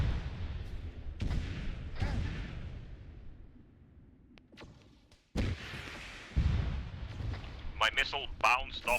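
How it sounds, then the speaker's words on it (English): Missile launches and booming impacts in a sci-fi combat video game, heavy rumbling blasts and whooshes with a sudden sharp explosion midway, while players talk over the action. "this one's shooting missiles at us"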